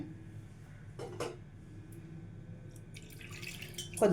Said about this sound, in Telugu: కొద్దిగా వాటర్ వేసుకొని